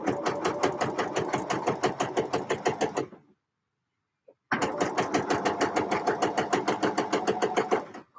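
A sewing machine stitches a knit project in two loud, steady bursts of rapid rhythmic needle clatter, separated by a brief pause of silence.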